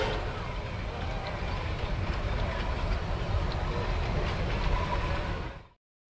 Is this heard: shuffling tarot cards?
no